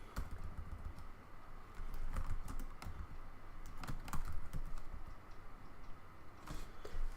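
Typing on a computer keyboard in a lab setup, steady bursts of soft clicking keystrokes with brief pauses, close and fairly quiet with no talking.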